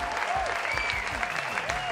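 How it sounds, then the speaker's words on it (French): Audience applause at a comedy quiz show, a steady wash of clapping from a live crowd that fills the whole stretch at moderate loudness with no talk over it. "on applaudit Eric."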